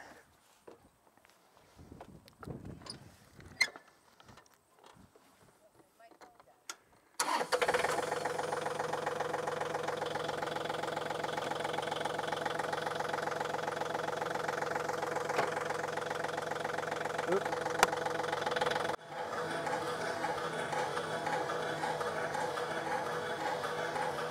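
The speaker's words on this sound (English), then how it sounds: "So I'm going to turn this on and engage the PTO, and we'll see what happens." A tractor engine runs with the power take-off engaged: a loud, continuous mid-pitched drone with a faint knocking rhythm. It follows several seconds of scattered clicks and handling noise, and the tone shifts slightly near the end.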